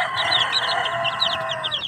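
Chickens and chicks clucking and peeping close by, rapid overlapping high chirps from the chicks over steady hen clucks, with no talking.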